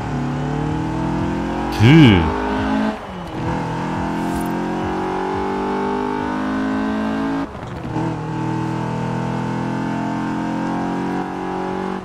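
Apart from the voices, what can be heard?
BMW E30 engine while drifting in Forza Horizon 4 video game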